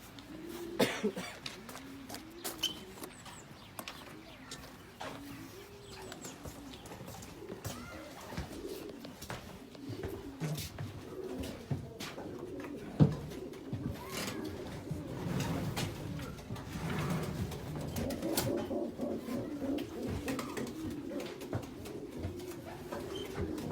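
Racing pigeons coo steadily inside a loft box, a continuous low burbling chorus of overlapping calls with wing rustles and clicks, close and moderately quiet.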